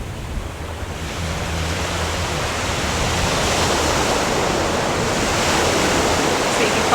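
Ocean surf breaking at Cable Beach, Broome, Western Australia: a steady, broad roar of crashing waves that fills the whole stretch, with wind buffeting the microphone and no voices.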